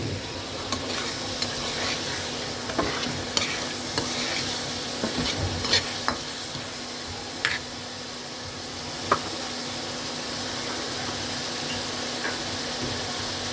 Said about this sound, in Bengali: আদা রসুনের গন্ধটা যতক্ষণ পর্যন্ত না যায় ততক্ষণ পর্যন্ত আমি মাছটা ভালো করে ভেজে নিব